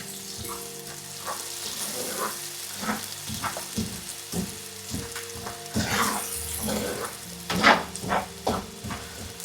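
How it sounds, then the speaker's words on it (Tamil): Fried prawns sizzle in masala oil as a pickle cooks. The crackling is steady and close, with brief stirring scrapes and splashes popping up through it. "நல்லா எண்ணெய் பிரிஞ்சு வந்ததுக்கப்புறம் இந்த ஃப்ரை பண்ண ஷ்ரிம்பை வந்து போட்டுக்கலாங்க"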